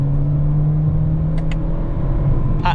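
Hybrid Toyota Corolla Cross engine held at steady revs after a paddle-shift downshift, a close, even hum with a few brief clicks near the end.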